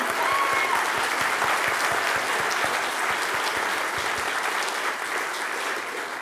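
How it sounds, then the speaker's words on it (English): Sustained applause from a crowd at a writers and illustrators awards event, a thick even roar of many hands clapping, loud and steady, tapering slightly near the end. "Let's give them a round of applause"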